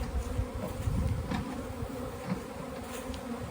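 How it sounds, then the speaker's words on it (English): Honey bees buzzing outdoors on a sunny flight day, a continuous close drone of many insects with no voices. "The best thing for these bees right now is exactly what they're getting. Nice sunny day, flight weather."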